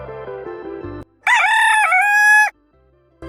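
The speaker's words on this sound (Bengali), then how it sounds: "মোরগ" One full rooster crow, loud and close, in a children's animal-sounds game. It is a long cock-a-doodle-doo of over a second, set between short musical stings with quiet gaps.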